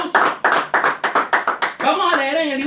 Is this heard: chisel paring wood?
no